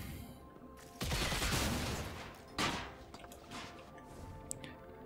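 Gunfire during a campaign mission of the video game Destiny 2 Lightfall: a sudden loud burst of shots that thins into a rumbling, fading tail, then a second shorter blast and scattered quieter pops.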